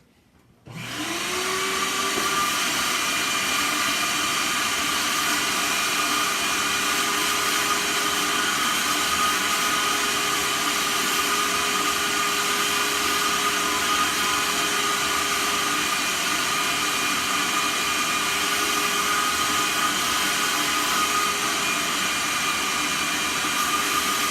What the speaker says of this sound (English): I'm going to crank up the vacuum here real quick.